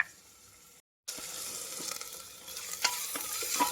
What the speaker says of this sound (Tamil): வெங்காயம் போட்டாச்சு.